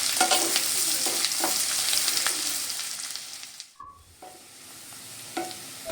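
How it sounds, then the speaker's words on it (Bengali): Onion, garlic and green chilli fry in hot oil with a dense, continuous sizzle and intermittent stirring scrapes. The sizzle briefly dips quiet near the middle, then resumes more softly. "এটা খুব ভালো করে লালচে করে ভেজে নেব।"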